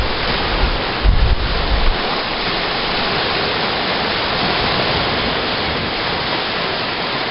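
Ocean waves wash onto a beach in a steady, broad roar, with a brief burst of wind buffeting the microphone near the start; no one speaks.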